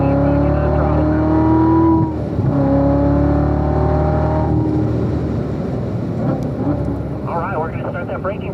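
A race car on the Spring Mountain track revs hard under throttle, its engine note rising in pitch through the gears with a brief dip at a shift, loud and close, while someone talks over it.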